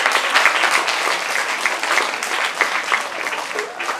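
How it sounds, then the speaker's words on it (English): Steady, dense applause from an audience at a mathematics festival welcoming a speaker, sustained without pause and fairly loud throughout. "a big round of applause for our speaker today"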